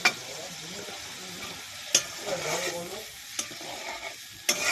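Mustard paste rinse water poured into a hot pan for a Bengali poppy-seed dish, a burst of hissing sizzle with a few sharp clinks of a utensil against the pan, close and moderately loud without speech.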